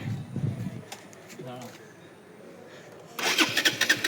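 A motorbike engine turns over and catches near the end, a burst of bright mechanical noise rising after a quiet stretch, with earlier low rumbling and faint birdsong in the background.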